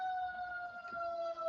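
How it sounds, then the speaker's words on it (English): A siren wails from a busy street, a steady two-tone emergency vehicle siren heard at a moderate distance, holding constant throughout. "sorry about that siren"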